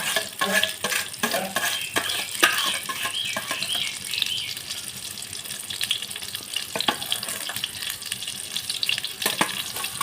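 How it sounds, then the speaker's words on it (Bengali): Whole onions frying in a pan for an egg-stuffed onion curry, with a soft continuous sizzle broken by clattering clicks and taps as the onions are placed and moved, busiest at the start. "এইভাবে আমি সব পেঁয়াজগুলো একে একে এর মধ্যে দিয়ে দেব দিয়ে এক পিঠ হওয়ার অপেক্ষা করব"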